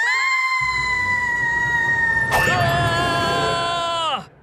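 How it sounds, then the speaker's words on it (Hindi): A cartoon cat character gives a long, loud, sustained high scream that wavers, briefly cracks midway, then drops away at the end, in a Hindi children's cartoon. "अरे चुप कर, किटी की चीख है,"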